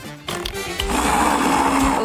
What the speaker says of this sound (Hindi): ब्लेंडर में सब कुछ डालें और मिलाएं।